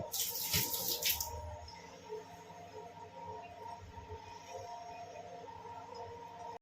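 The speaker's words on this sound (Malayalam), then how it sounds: "വീണ്ടും ഞാൻ വെള്ളം ഒഴിച്ച് കാണിച്ചു തരുന്നത് കണ്ടോ" Water poured into a sink drain over a disposable strainer sticker, a brief splashing rush at the start that settles into a faint, steady trickle and hum.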